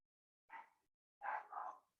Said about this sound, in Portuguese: Tem algum cachorro latindo aqui